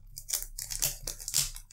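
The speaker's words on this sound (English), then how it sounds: "So I'm gonna take out the I'm gonna unwrap the fake first." Crinkly cellophane being torn and peeled off a fake Dior Homme Intense fragrance box, a close run of tearing and crumpling bursts with no talk.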